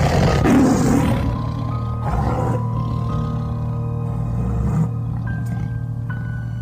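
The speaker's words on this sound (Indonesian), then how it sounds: "mereka bertiga mendengar suara harimau dari dalam kamar tempat penyimpanan benda pusaka." A tiger roars from inside a storeroom for heirloom objects, a loud, deep drawn-out growl that rumbles and trails off, followed by lower grumbling and a few faint tonal beeps.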